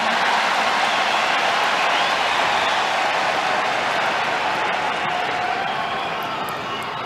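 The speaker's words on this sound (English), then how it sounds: "you have the entire box of Casper Ruud on their feet after that point, clapping, cheering" A tennis crowd at the 2022 US Open men's final applauds and cheers after a point, a dense, loud, continuous wash of clapping that holds steady throughout.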